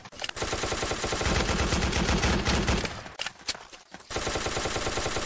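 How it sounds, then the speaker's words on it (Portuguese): Rapid automatic gunfire in the Roblox game Ace of Spadez, loud dense bursts of shots nearly filling the moment, with a short break of scattered single shots before firing resumes. "Que tiro foi esse?"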